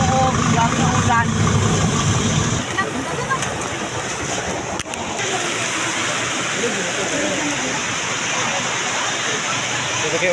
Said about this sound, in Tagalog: Yung malakas na buhos.